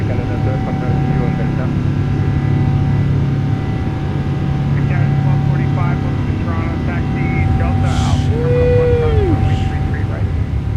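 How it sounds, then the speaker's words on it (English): Loud, steady roar of the jet engines on a PMDG 777F freighter at takeoff power in Microsoft Flight Simulator 2024, a continuous droning rumble with a faint whine, while a person talks over it. "We're gonna go deaf if we keep listening to engine sounds that loud."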